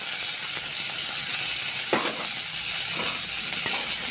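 Potatoes, peas and corn fry in a wok with a continuous bright sizzle, while a utensil stirs through them in a few soft scraping strokes; no talking.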